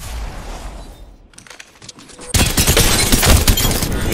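Gunfire in Apex Legends: a few scattered shots, then a sudden loud, sustained burst of rapid fire that continues to the end.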